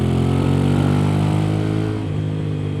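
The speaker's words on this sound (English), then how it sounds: "It's a honking motor." An Aprilia Tuareg 660 motorcycle engine rumbles loudly and steadily nearby, a deep throbbing drone that eases slightly in pitch toward the end.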